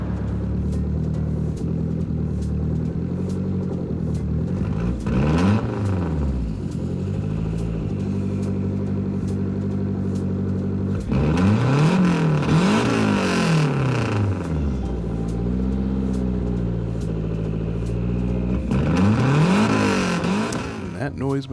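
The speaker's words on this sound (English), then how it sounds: "That noisemaker is the Lancia Delta HF Integrale rally car, the star of the update." A Lancia Delta HF Integrale rally car in Gran Turismo 7 revs hard through repeated rising and falling gear pulls, its raspy engine loud and close and continuous throughout.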